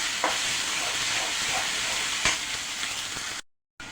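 Spices fry in oil in a pan for a tilapia head and shing fish do-peyaza with vegetables, a steady close hiss and sizzle with a few sharp ticks before a brief cut to silence near the end.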